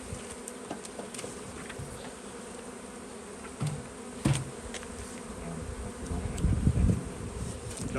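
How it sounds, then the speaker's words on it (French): Honeybees buzz steadily around newly installed hives in an apiary, a continuous close swarm hum with individual bees droning past, plus occasional handling knocks and rustles. "Les abeilles qui sortent les autres abeilles."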